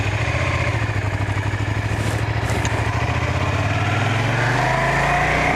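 A 2003 Suzuki SV 650 motorcycle engine runs close and loud with a steady, throbbing twin-cylinder pulse, easing slightly in pitch toward the end.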